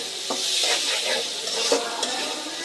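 Masoor lentils crackle and sizzle as they dry-fry in a pan while a utensil stirs and scrapes repeatedly, close up and steady, with no one speaking.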